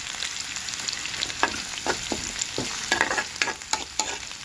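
A tempering of spices frying in a pan for tomato dal hisses with a steady, close sizzle, broken by irregular scraping stirs and small spatters, with no voices.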